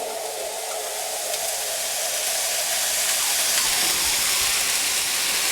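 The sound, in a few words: onions, garlic and ginger sizzling in oil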